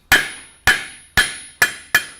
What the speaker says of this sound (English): now you need to control and tilt the hammer sideways in order to be able to do this